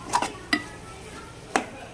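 A spoon or spatula scraping and knocking against a pan while semolina halwa roasts, three short clinks spaced irregularly over a quiet background.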